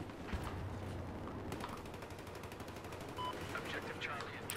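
Gunfire in the video game Battlefield 4, played on the Operation Locker map, comes as faint rapid bursts and single shots against a busy, muffled game background.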